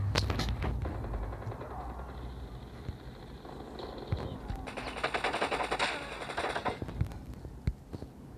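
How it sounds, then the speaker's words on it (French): Rapid automatic gunfire from the mobile shooter game Call of Duty Mobile, bursts of clattering shots with sharp single cracks scattered through, loud and close, with no talk over it. "Je me prends des tirs"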